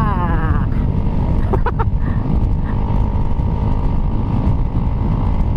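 A Kawasaki KLX150 motorcycle runs at high speed with a loud, sustained engine drone mixed with heavy wind rush, held close and continuous throughout.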